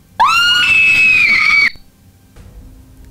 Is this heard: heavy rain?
no